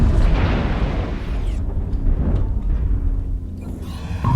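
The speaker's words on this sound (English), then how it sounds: "Artillery strike." Artillery strike explosions in the MechWarrior Online video game, a dense rumbling barrage of booms that rolls on continuously and loudly for the whole stretch, with deep low-end roar and no talk.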